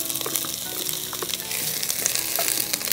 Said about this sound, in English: Then we're gonna add some onions and jalapenos.